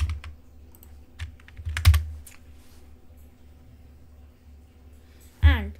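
Computer keyboard typing while entering Python code, a few scattered soft key clicks with louder bursts around two seconds and near the end, quiet and close with a low steady hum underneath.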